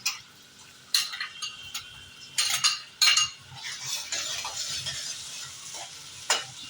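Finely chopped onions, two of them, dropped into hot oil with mustard seeds and cumin for a Gujarati bitter gourd curry, bursting into a bright hissing sizzle with sharp spatula clinks and scrapes against the pan.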